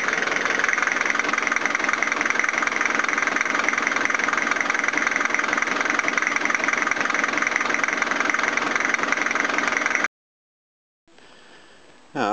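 A van engine idles steadily with a rattling exhaust, a loud continuous drone with a knocking rattle that cuts out near the end before a brief quieter sound.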